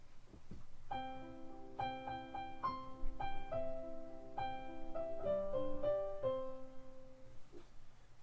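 A soft piano plays a short, unhurried phrase of single notes and chords that settles onto a final resting chord before fading out.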